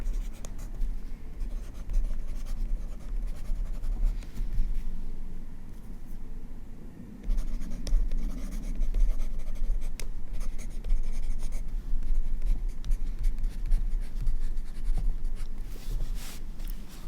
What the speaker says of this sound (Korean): 조연사님도 한번 써볼게요.